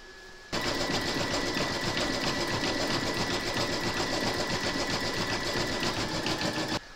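An embroidery machine stitching the border round of a no-sew burp cloth, a fast steady mechanical whirring hum that starts abruptly and runs evenly, close and loud, no talking.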